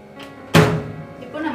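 An IFB microwave oven door shuts with a single solid thunk, close and clear, followed by brief quiet rattling; a voice is heard faintly around it.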